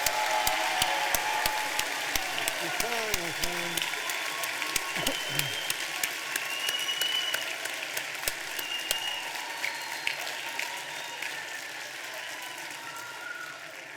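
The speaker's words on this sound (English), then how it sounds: "can we have one more round of applause for all the cadets that have made us so proud today?" Audience applause for cadets at a youth academy graduation ceremony: a long burst of dense clapping from a large crowd, loud at first and slowly thinning, with brief voices and cheers mixed in early.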